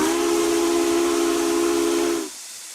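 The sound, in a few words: American steam whistle blowing in RO-Scale Sandbox video game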